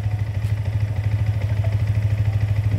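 A Yamaha R15 motorcycle engine idles steadily nearby with an even low pulsing rhythm and no talk over it.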